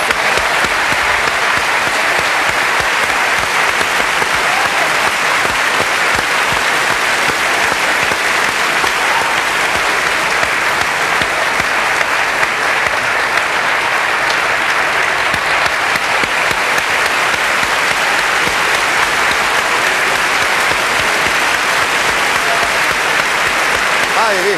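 A large audience at a 1989 Italian award ceremony honoring Bud Spencer breaks into sustained, dense applause that stays loud and steady throughout, with a few voices faintly audible beneath the clapping.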